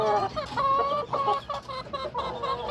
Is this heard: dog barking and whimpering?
no